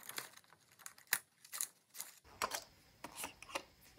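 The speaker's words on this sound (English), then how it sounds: "I just need to cut this piece out by hand." A thick overhead transparency sheet is cut by hand, heard as faint, close, irregular snips and crinkles spread over a few seconds.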